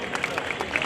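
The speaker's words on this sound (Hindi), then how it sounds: "जोरदार तालियों की आवाज निकलनी चाहिए और ईश्वर तक आवाज पहुंचनी चाहिए" A crowd applauding at a Bhagat Singh statue unveiling ceremony in Delhi, a brief burst of rapid, dense clapping from many hands.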